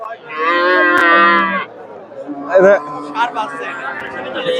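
A cow lets out a long, loud moo nearby at a cattle market, followed by people chattering and another shorter low call among the voices.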